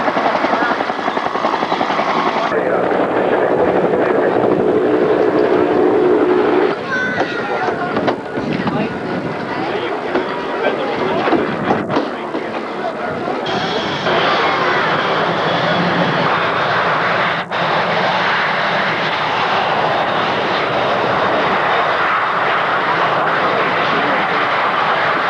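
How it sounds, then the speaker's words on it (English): Jet aircraft of the Blue Angels taxiing in formation at the Schenectady air show, a loud, steady engine roar lasting throughout, with shifting tone as the planes move past and faint crowd noise beneath. "Blue Angels, taxi in type formation, just as you will see them perform here this afternoon."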